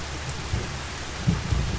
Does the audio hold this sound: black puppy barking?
no